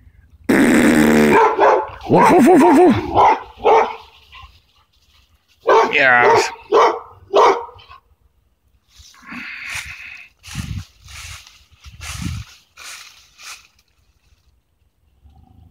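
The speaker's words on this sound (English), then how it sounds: "Yes, here comes the doggy now." A dog barks loudly and repeatedly in sharp clusters, with growls and yips mixed in, close by; a person speaks briefly between the barks.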